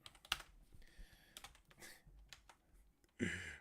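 Scattered clicks of typing on a computer keyboard, close but fairly quiet, in short irregular bursts with a louder clatter at the end.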